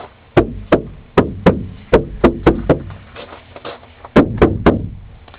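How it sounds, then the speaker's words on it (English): A series of sharp, hollow knocks on the sheet-metal quarter panel of a Dodge Omni GLH, about a dozen blows in uneven groups with brief pauses, close and loud with no talking. "let's try beating on the car and see how it sounds."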